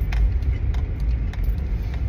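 Honda CR-Z, a front-wheel-drive hatchback, driving through a park, heard from inside as a steady low engine and road rumble with faint light rattles and clicks.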